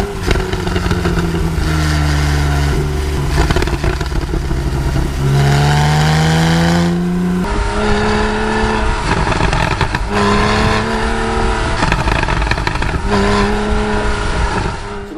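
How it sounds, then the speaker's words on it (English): A 991.1 Porsche 911 GTS with a naturally aspirated engine driven on a backcountry road, its exhaust note rising and falling through repeated revving pulls and gear changes, loud and close throughout. "the exhaust note of that naturally aspirated transmission, it's just great on the backcountry road"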